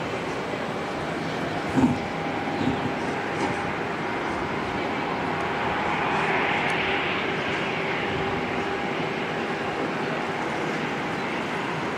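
Airliner touching down at Auckland Airport, a broad steady roar of engines and rushing air heard from a distance, swelling slightly midway, with faint wind over the microphone.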